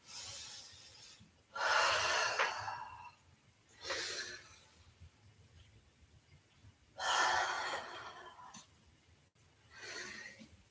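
Slow breaths during a live yoga breathing session, with four soft inhale-exhale bursts spaced a few seconds apart, close and fairly quiet over a low background hum.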